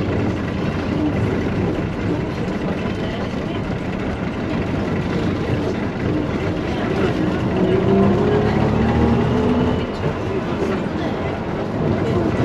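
A bus rumbles closer amid steady traffic noise, its engine drone swelling and whining slightly before easing off.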